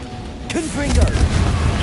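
A Confringo fire spell bursts with a deep rumbling blast in Hogwarts Legacy combat against Inferi, starting about halfway through and swelling into a sustained low roar, while a voice calls out over it.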